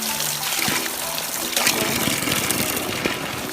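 Spring water trickling and splashing steadily on a rainy off-road walk, a continuous close wash of running water with a few louder gushes and no speech.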